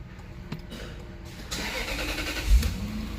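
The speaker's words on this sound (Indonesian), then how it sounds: "kita denger ya suara mesin V8 nya" A 2002 Toyota Soarer with a 4.3 V8 cranks briefly and catches, then settles into a smooth, steady idle close by, with no talk over it.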